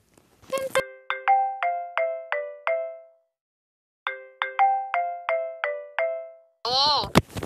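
A phone places a call: a short tap, then two identical runs of six rapid descending dial tones separated by a pause, ending in a brief burst of noise.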